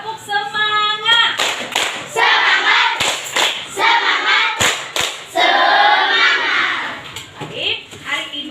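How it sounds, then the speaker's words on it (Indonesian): Schoolchildren in a classroom doing a rhythmic spirit clap, sharp hand claps in sets mixed with children's chanting voices, loud and close. "Tepuk semangat."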